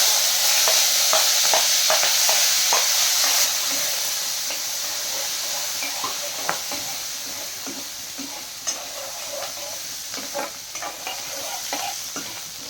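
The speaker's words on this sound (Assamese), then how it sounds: "এই তেল গৰম হৈ গ'লে চেম্বাৰ মাৰি দিওঁ" Whole spices for tempering hit hot oil for black gram dal in a separate kadai, starting with a loud, steady sizzle and hiss that eases off. Light stirring clinks and crackles follow.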